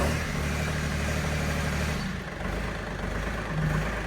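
A 2024 Kubota L2502 tractor engine idles with a steady low rumble, then its pitch and loudness rise as the throttle is raised, holding a stronger drone near the end.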